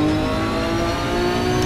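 A Nissan GT-R race car engine in the racing video game Assetto Corsa Competizione, revving steadily at high pitch, a sustained whining drone that rises slightly, loud and close with no voices.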